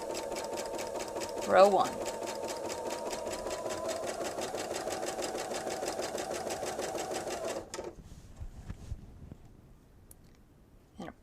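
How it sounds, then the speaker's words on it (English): A sewing machine stitches table runner pieces in a steady, rapid whir lasting several seconds before stopping, with a voice speaking briefly early on. "And now we're going to stitch"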